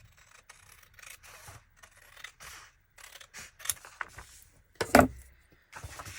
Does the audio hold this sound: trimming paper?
yes